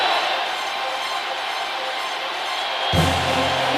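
A football stadium crowd heard in a broadcast recording, a steady, distant roar and hiss of many voices that swells slightly near the end.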